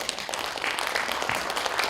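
Applause from an audience at a literary festival honoring a poet, a steady wash of many hands clapping at moderate distance, continuous and fairly soft with no voices standing out.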